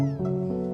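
A cat meows in the Before Your Eyes game, one short drawn-out call, close and clear, layered over a sustained musical tone.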